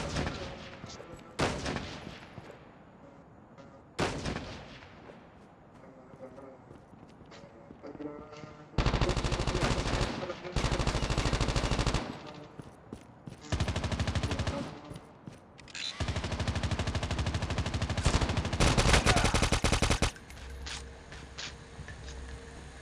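Bursts of automatic gunfire and heavy shooting from the Call of Duty video game, loud sustained volleys broken by short pauses, with in-game callouts and voices heard between the shots.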